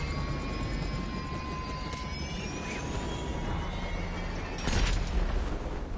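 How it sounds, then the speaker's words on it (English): Annihilator helicopter in GTA 5 Online droning steadily with a constant low rumble and whining rotor tones, swelling briefly louder near the end. "they stick us with the second slowest chopper in the game, the Annihilator"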